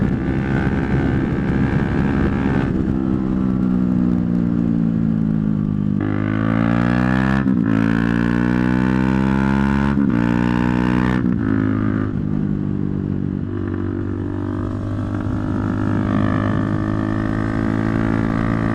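Motorcycles on a group ride with riders fresh from the TT roar past close by, engines revving up and down through the gears in loud rising and falling whines, one bike after another.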